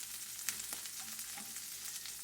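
Beef chorizo sizzles steadily in a hot pan for a ramen dish with green onions, a soft continuous crackle with a few faint pops and light scrapes, fairly quiet and unaccompanied by voices.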